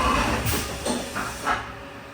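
A Haas VF-4SS vertical machining center performs a full-speed tool change, giving a few quick hissing, clunking pulses in close succession at moderate level, then settling to a quiet mechanical hum.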